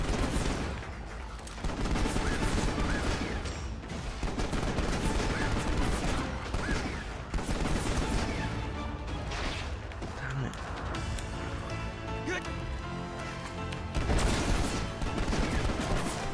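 Rapid gunfire in Final Fantasy 15 crackles in dense, repeated bursts over about sixteen seconds. The shots are loud and near, with voices speaking intermittently among them.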